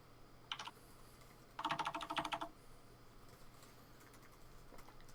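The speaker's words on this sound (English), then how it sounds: "Everybody starts typing at the same time." Several people type on keyboards at once during a tabletop game stream, two short bursts of rapid clicking against a quiet background, the second burst longer and denser.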